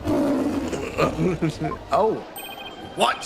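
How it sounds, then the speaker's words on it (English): A warbad, a bird with a lion-like cry in Phoenix Wright: Ace Attorney – Spirit of Justice, lets out a loud roar, and startled voices break in over and after it. "It's the cry of a local bird known as a warbad."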